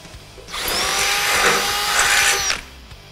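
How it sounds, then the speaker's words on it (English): A power drill whirs at close range for about two seconds, rising to a steady high whine as it bores a hole for a fuel tank install, then stops abruptly. "We got a drill to remedy that."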